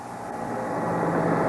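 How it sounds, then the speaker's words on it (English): A helicopter passes overhead during a live broadcast on September 11, 2001, heard as a broad, rising mechanical rumble that grows steadily louder over the brief span. "Thank goodness that was a helicopter that just flew by."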